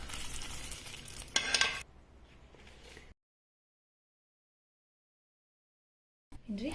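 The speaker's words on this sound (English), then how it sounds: "Adding in the tadka." Hot tadka tempering poured into millet bisibelebath, a loud sizzle and stirring that fades after a couple of seconds, then silence before a brief return of sound.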